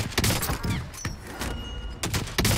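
Sniper rifle shots in the Call of Duty: Warzone video game, several sharp, loud cracks in quick succession, with brief gaps between them amid game noise.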